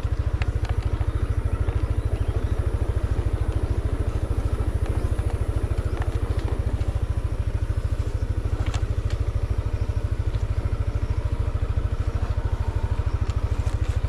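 A motorcycle labouring up a very steep, narrow, partly rocky mountain road in Cebu, its engine droning loud and steady throughout with a fast pulsing beat and scattered light clatter.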